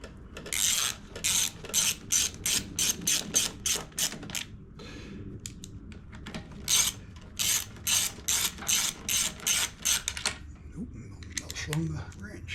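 A ratchet wrench clicks in rapid repeated bursts while tightening a part on a Honda HRX2173VKA lawn mower, close and crisp, with short pauses between strokes.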